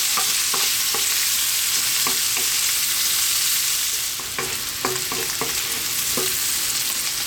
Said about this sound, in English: Let's add in our onion, our chopped garlic.